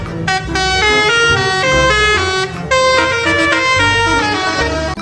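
A green toy bus sounding its telolet horn: a loud, continuous multi-tone melodic horn tune played in shifting notes, close and dominant throughout.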